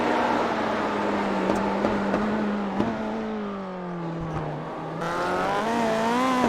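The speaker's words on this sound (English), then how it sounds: "Gets on the brakes hard again for this next corner he doesn't see." A rally car's engine drones steadily under hard braking into a tight corner, the pitch sliding down as it slows, with brief tyre and gravel scrabbles and a sharp transient near the middle, engine rising again at the end.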